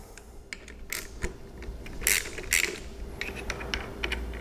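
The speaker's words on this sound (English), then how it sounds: "we'll go ahead and loosen these T27s that are holding the clutch on here" A hand tool works Torx T27 bolts loose on a Harley Road Glide clutch, a series of close, sharp metallic clicks and ratcheting ticks, irregular and scattered, with a couple of louder bursts midway.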